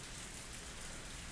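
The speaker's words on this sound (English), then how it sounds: "It was raining far too hard to see the moon." Steady heavy rain from the visual novel Higurashi: a dense, continuous hiss of drops on surfaces, quiet and even throughout with no voices.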